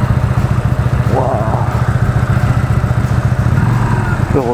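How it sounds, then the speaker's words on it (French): Motorcycle ridden through busy traffic, its engine thrumming in a close, pulsing chug with a brief rising rev partway through. The loud, steady engine stays close to the rider. "Heureusement je suis en moto."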